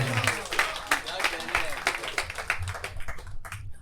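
Audience clapping at a Delhi poetry gathering, a dense run of sharp claps under continuous talk, thinning out toward the end.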